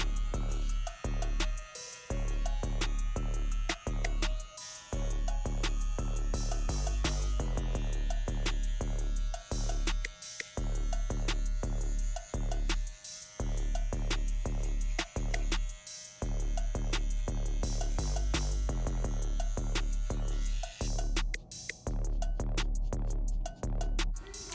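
Slimline Pro hair trimmer buzzes continuously close by while detailing the bottom guideline of a fade haircut, a steady electric hum broken by brief dips as the blades lift and return.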